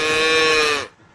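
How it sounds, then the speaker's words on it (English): Cow mooing in a long, loud, steady bellow that cuts off abruptly near the end, close and alone. "Yes, they are cows."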